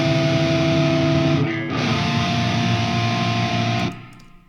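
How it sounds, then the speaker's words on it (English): Dense, sustained electric guitar chords reamped through a Fender Tone Master Pro on a heavy distortion setting ring out loud and thick, briefly dipping midway, then cut off sharply near the end. "I'm going to put it on a heavy distortion sound"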